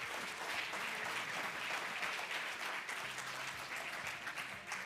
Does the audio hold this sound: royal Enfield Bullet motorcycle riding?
no